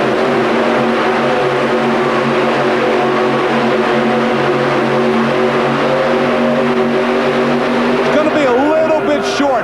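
4WD pulling truck Red Rabbit, out of Turlock, California, roaring through a pull at the Pontiac Silverdome, a sustained heavy engine drone rising toward the end, with an announcer talking over it.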